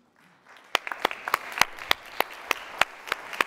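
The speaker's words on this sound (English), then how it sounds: "I do think this deserves a round of applause." An audience at a high-level conference panel debate claps, starting with a few quiet hands and settling into sparse, evenly spaced sharp claps from a small, restrained crowd.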